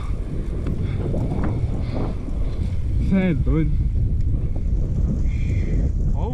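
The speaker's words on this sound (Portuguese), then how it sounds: "Olha o vento aí, mano. Mas tem vento, mas na câmera tá beleza." Wind buffets the camera microphone while riding a bike on a street, a constant rough rumble that swamps the scene as a voice speaks briefly over it.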